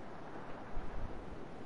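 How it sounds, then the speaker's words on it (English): Wind and waves wash around a sailing ship at sea in Assassin's Creed IV Black Flag, Freedom Cry DLC. The ambience is a soft, steady broadband rush with a slight swell near the middle and no voices. "Just you, the creaking of the ship, the waves."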